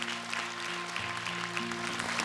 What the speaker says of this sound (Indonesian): Boleh tepuk tangan untuk Dewan Juri kita.